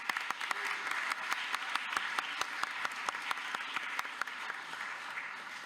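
Audience applause at a township council meeting, a steady patter of many hands clapping close by with sharp individual claps standing out, continuing for several seconds without speech.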